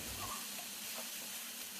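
Drumstick leaves being sautéed in a pan, a faint, steady sizzle with soft stirring scrapes, heard alone without talk.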